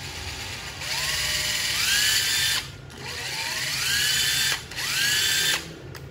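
A used Japanese-import cordless battery drill runs in three bursts of a couple of seconds each, a close, loud whine that winds up in pitch at each start and cuts off sharply between runs.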